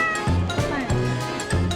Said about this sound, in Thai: นี้ แมว